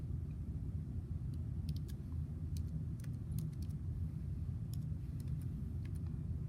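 Typing on a keyboard connected to an iPad tablet, with sparse, faint key clicks in irregular bursts over a steady low rumble, no one speaking.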